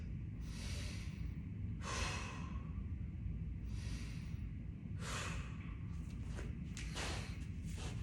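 Slow, deep breaths during a resistance band mobility stretch come as about five long, airy inhale and exhale cycles, close and steady over a low room hum.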